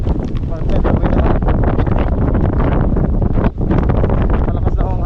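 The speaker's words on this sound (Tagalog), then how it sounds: "Malakas na ang hangin." Powerful Typhoon Tino wind in Surigao City, Philippines, roars steadily and loudly against the mic, briefly dipping once before surging again, with Filipino talking mixed into the din.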